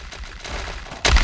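Rapid weapon fire from Realm of the Mad God, a dense burst of shooting effects that builds, then a sharper, louder blast at the end.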